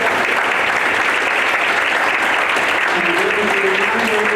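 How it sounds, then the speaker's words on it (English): Workshop audience applauding steadily throughout, a dense, sustained clapping from a crowd, with a brief tonal voice or hum rising faintly near the end. "A round of applause."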